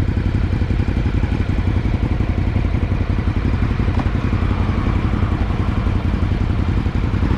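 A Ducati Hypermotard 950 SP motorcycle engine runs steadily up close, a loud, even, throbbing rumble with a mechanical clatter, holding a constant pace without revving.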